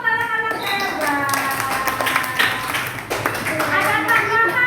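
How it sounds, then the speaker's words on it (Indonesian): Children in a classroom clap along in a light, patchy rhythm while voices chatter and sing-song over the top throughout. "Tepuk tangan untuk anak-anak hebat."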